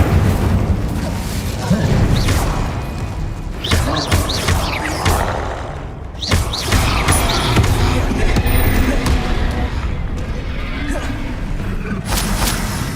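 Spell casting in the video game Hogwarts Legacy, with Expelliarmus, Incendio, Glacius and Confringo fired off in quick succession. Loud booming bursts and crashing impacts follow one another densely over a continuous wash of battle noise, and voices call out along the way.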